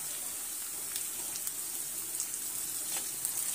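Chopped green chillies sizzle in a pan with roasted ginger and garlic, giving a steady, close, bright hiss with faint crackles scattered through and no voices.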